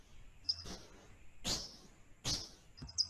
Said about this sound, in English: I'm going to use a lovely bird we had outside of the window this morning.